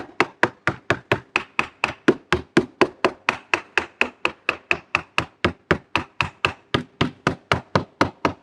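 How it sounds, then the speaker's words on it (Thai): Steady rapid tapping of a hammer on a hollow plastic car bumper, about four sharp knocks per second, close and even throughout with no talking. "ถ้าไม่ใช้ค้อนเหล็กก็ใช้ค้อนค้อนยางก็ได้นะครับ"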